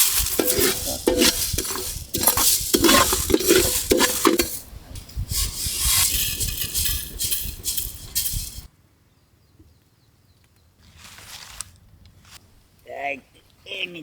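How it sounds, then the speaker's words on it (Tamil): Coriander seeds, pepper and cumin dry roasting in a pan outdoors in a village kitchen, with rapid rattling scrapes of stirring for several seconds, then quieter, and a voice speaking near the end. "மல்லி மிளகு சீரகம் அப்படியே வறுத்து எடுத்துக்கோமுக்கா"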